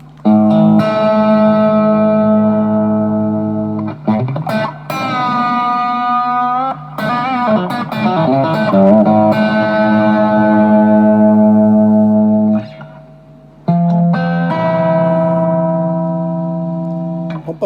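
A 1977 Japanese Tomson vintage electric guitar plays through a Micro Cube amp on its bridge pickup, loud and sustained, with held chords and single notes separated by brief pauses and a slight echo tail.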